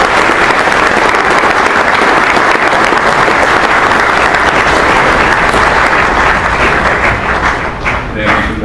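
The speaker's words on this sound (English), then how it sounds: "please give them a round of applause" A large crowd at a McMaster awards event applauds the coaching staff, with loud, sustained clapping for nearly nine seconds that tapers slightly toward the end. Some voices can be heard within the clapping.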